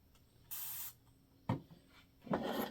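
A cleaning spray hisses in a short burst onto a purse, followed by softer rubbing and handling noises and a second louder scuffing burst near the end, close and clear with no talk.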